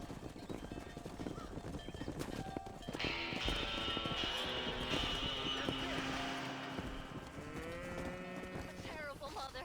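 Cattle in a ranch herd low and moo repeatedly in an open outdoor setting from a Western game, with hoof clip-clops and horse sounds mixed in, the bellows rising and overlapping through the middle.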